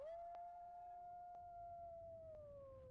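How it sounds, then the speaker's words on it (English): Wolf howl in a Nancy Drew video game: one long, steady, faint howl that slowly falls in pitch at the end, over quiet background hiss, with soft periodic clicks and no speech. "Subtitles said wolf howl."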